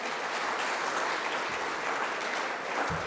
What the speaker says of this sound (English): How about we just give him one more round of applause?